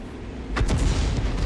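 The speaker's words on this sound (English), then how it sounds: "Okay, Ratty's going to fire on the tanks in the west." A Hummel self-propelled artillery piece fires on tanks in a World War II video game. One deep, heavy boom lands in the middle of a steady low rumble, with no voices.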